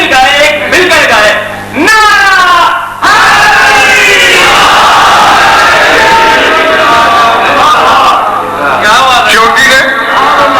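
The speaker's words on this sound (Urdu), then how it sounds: "دونوں یونین کونسلوں میں نعرے لگ رہے ہیں" A large crowd at a religious gathering chants slogans in loud rhythmic unison, the shouted calls repeating in waves with brief pauses between them, close and dominant throughout.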